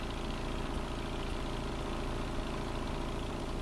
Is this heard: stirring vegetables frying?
no